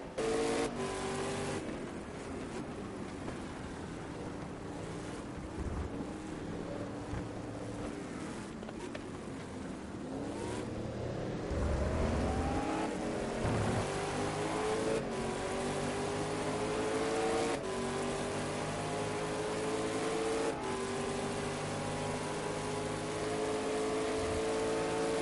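Race cars in a sim racing game at Paul Ricard drone continuously, engines rising and falling in pitch through gear changes as several cars run close together, loud and steady with no voices.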